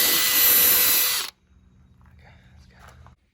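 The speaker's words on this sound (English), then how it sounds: "I actually bought a special drill bit because I wanted this hole to be neat" A power drill whines loudly for just over a second while drilling a hole in a boat, then stops abruptly, leaving a low hum and faint rustling.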